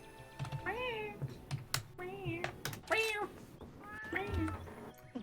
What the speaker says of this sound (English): Sorry, you all have to just hear like disembodied cat noises.